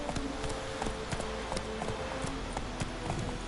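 Horse Roach's hooves clip-clop in a steady walking rhythm in a video game, close and clear over a low ambient bed, with a faint whinny-like tone.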